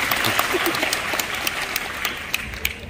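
An audience at a Vietnamese stage event applauding; a dense, steady wash of clapping with scattered sharper claps, continuous throughout and fairly close.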